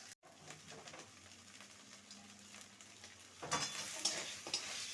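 Food is stirred in a pan over a soft sizzle for a vegetarian dish finished with chopped coriander, faint scraping with a brief gap near the start, then louder frying with a few chirps behind.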